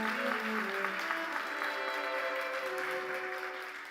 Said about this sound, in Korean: 여러분, 존경의 마음을 담아 큰 박수 부탁드립니다.